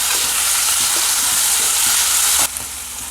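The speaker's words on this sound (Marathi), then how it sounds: "त्यामध्ये लगेच आपण टोमॅटो घालून घेऊया आणि व्यवस्थित परतून घेऊया" Tomatoes sautéing with onion in a pan for Maharashtrian masale bhat give off a loud, steady sizzle and crackle that keeps on without a break, then drops a little softer near the end.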